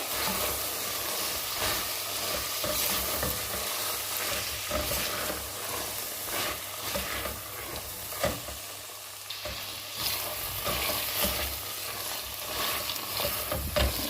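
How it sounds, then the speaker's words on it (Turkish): Beans and onions frying in a pan for a dried-bean-and-meat stew, a steady close sizzle with scraping stirs running throughout, no voices. "Şimdi böyle biraz fasulyelerle kavuracağım arkadaşlar."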